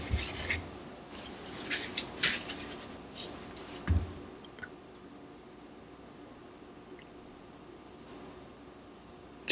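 A Ganzo FH21 folding knife with a D2 steel blade is drawn across a sharpening stone in short, close scraping strokes, irregular and fairly faint, fading to quiet rasping near the end.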